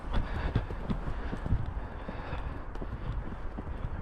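Horse cantering around a jumping exercise, its hoofbeats thudding in a loose repeating rhythm against steady arena noise, moderately close and without talk.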